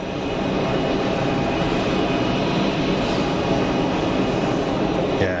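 An airliner climbs out at Geneva Airport, a loud, sustained broadband jet roar that stays steady and close throughout, with no voices.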